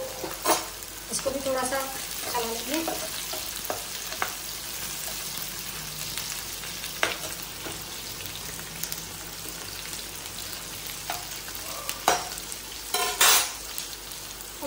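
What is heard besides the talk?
cashews sizzling as they fry in a pan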